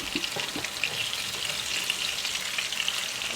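Persian meatballs (kofteh) fry in a pan with a dense, even hiss of spattering oil, a few light knocks of a utensil early on, steady and close with no talking.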